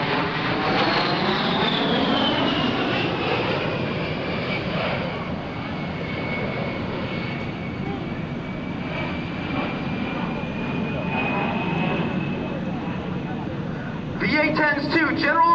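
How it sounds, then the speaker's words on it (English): An A-10 Thunderbolt II with two General Electric turbofan engines performs an airshow demonstration, its loud, steady jet roar and slowly falling whine filling the air while a narrator speaks over it. "The A-10's two General Electric turbofan engines add more than just power to its performance."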